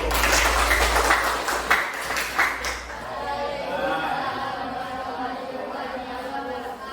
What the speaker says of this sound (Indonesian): Kasih tepuk tangan ke kelompok 1